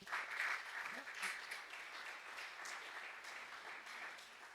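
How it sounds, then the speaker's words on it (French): Faint, distant audience applause, a soft even patter of many hands clapping throughout, with a voice briefly audible. "Qu'est-ce qu'on peut applaudir un peu là?"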